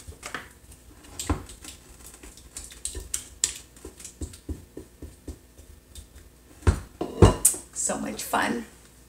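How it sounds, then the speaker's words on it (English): A spatula scrapes peanut butter cheesecake batter from a mixing bowl in a steady series of short, close scrapes and taps, building to a few louder clanks against the bowl near the end. "I'm going to use my spatula. Make sure I get it all."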